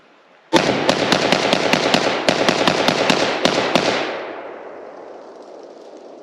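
A Zastava M70 underfolder AK rifle fires a rapid, loud string of about a dozen close shots in quick succession, then falls silent as the echo fades away across the outdoor range.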